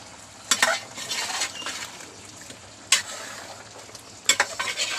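Green beans and raw banana stir-frying in a pan for a Kerala upperi, with a steady low sizzle and sharp scraping stirs of a spatula against the metal, recurring in short bursts.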